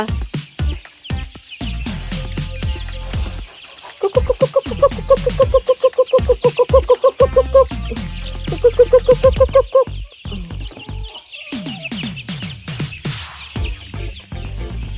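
A crowd of around 300 three-week-old layer chicks cluck and chirp loudly at close range as their coop door opens, with rhythmic bursts of calls and clattering knocks in between.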